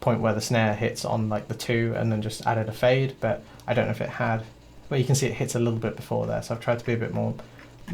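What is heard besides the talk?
No everyday noises stand out.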